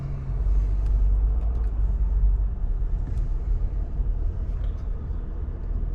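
A 2020 Ford F-250 Super Duty pickup on 37-inch Nitto Ridge tires reversing, heard as a loud, steady low engine and road rumble close by with no speech.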